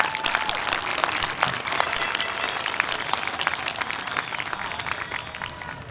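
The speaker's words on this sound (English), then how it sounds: "please give yourself a round of applause" High school graduates and their audience applauding at a graduation ceremony, a steady, dense wash of many hands clapping at a moderate distance, sustained for several seconds without a break.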